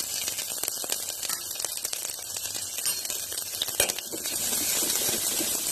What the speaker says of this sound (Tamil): கடுகு பொரிஞ்ச உடனேயும் நம்ம கட் பண்ணி வச்சிருக்க வெங்காயம், பூண்டு, கருவேப்பிலை, வரமிளகாய் எல்லாத்தையுமே ஒட்டுக்கா போட்டுக்கலாம்